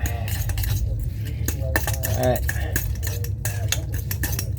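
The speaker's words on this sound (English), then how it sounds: "take a fork, and mix that all up" A fork scrapes and clinks against a bowl while cheese, garlic, parsley and olive oil are mixed, giving a steady run of close metallic taps and stirring scrapes.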